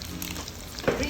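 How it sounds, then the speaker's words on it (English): Regular onions frying in oil with black cardamoms and cloves give a steady close sizzle, with a short stirring scrape near the end. "we're going to fry our regular onions"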